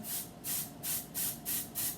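Several short bursts of dry shampoo aerosol spray hiss close by, each about a quarter second long, in a steady on-off rhythm.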